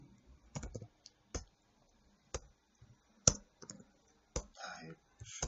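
Sparse typing on a computer keyboard while entering code, with isolated sharp key clicks spread unevenly across a quiet room and a short quicker run near the end. A low voice is faintly audible at moments.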